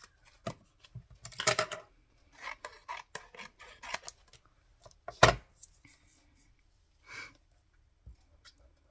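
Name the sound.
scissors trimming cardboard pieces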